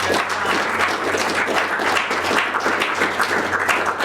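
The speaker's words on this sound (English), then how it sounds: "giving them a round of applause" Loud, dense round of audience applause for a panel at a geography careers event, continuous many-handed clapping with a low room hum underneath and no speech.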